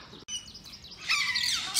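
Hyacinth macaw named Neville at a tropical bird park, calling in short chirping bursts that build into a louder, harsh screeching call toward the end, close and clear with no talk.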